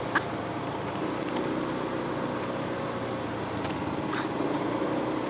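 Steady road-vehicle engine and traffic rumble from a motorcycle riding close behind a car, a continuous drone with no talk over it.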